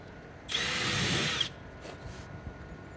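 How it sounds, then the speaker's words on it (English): A power drill whirs steadily, pre-drilling into wood fence panels for about a second, loud and close, then stops, leaving quiet room noise. "we'll pre-drill again."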